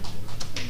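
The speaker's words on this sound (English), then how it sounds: "Owl! He's back." An owl calls, soft low hoots repeating at close range in a brief burst.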